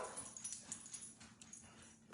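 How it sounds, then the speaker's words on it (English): A dog at home whimpers and yips, with soft, brief whines and small sounds scattered over quiet room noise. "This is what happens at home with a dog."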